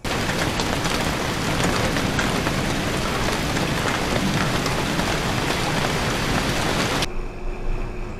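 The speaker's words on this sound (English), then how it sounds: "For the last week or so, the problem has been too much rain." Heavy rain pours down in a dense, unbroken roar of drops drumming on surfaces, loud and steady throughout before easing slightly at the very end.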